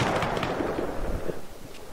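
Gunfire in the video game Operation Iraqi Freedom, Task Force Firestorm mission: a dense, close cluster of rapid shots and booming bursts over the first second, then thinning into a few scattered, fainter pops.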